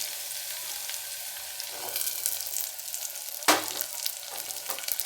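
Neem flowers sizzle gently in hot oil, a soft steady crackle with a few sharper clinks and scrapes of stirring.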